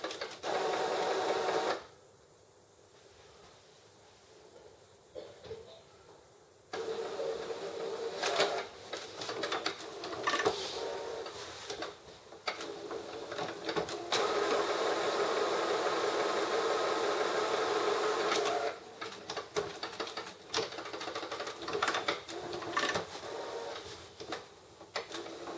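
An HP Photosmart B110a inkjet printer fitted with a continuous ink system runs a head-cleaning cycle, giving a steady mechanical whirring and buzzing with short pauses and clicky bursts, close and fairly loud, with no talk.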